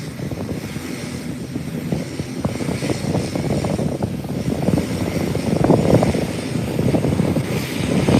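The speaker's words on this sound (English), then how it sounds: "An American airline is on the threshold of the runway, ready for takeoff." An American Airlines airliner holds at the runway threshold at Howard Hamilton International Airport, ready for takeoff, its engines a continuous, fluctuating roar heard from a distance that grows gradually louder.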